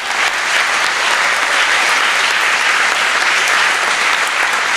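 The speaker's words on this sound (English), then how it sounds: "Give them a big round of applause" A large audience at a hackathon closing ceremony applauds the winning team, a dense, steady wash of clapping that stays loud and even throughout with no voices standing out.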